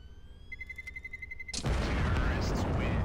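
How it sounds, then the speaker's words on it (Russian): A bomb explodes in Counter-Strike on the de_cache map during a pro match, a sudden loud boom with a long rumbling tail after a brief faint beeping. "Взрывается бомбочка."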